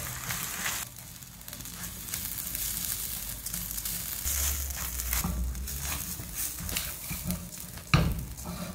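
Rice being stirred while frying in oil with salt in a pan, a steady soft sizzle under intermittent scraping and shuffling of grains, fairly quiet and close, with no talking.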